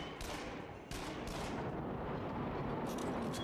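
Gunfire in the VR shooter game Until Dawn: Rush of Blood, several sharp loud shots with rumbling, noisy echoes: a couple of quick blasts early, then a sustained roar with more shots near the end.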